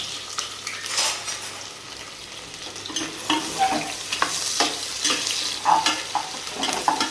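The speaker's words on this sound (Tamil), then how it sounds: "இப்போ வெங்காயம் வதக்கலாம். வெங்காயம் நல்லா வதங்கி வரணும்." Onions sautéing in ghee and oil for mushroom biryani give a steady sizzle, with a utensil scraping and stirring in the pan, close and fairly loud.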